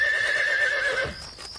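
A horse whinnies loudly and close by, a wavering high neigh lasting about a second, followed by a brief snort and faint rustling.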